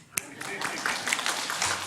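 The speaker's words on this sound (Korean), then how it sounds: "여러분 박수." Scattered handclaps from a church congregation during a Sunday worship service, one sharp clap up front followed by looser, lighter clapping under continued talk.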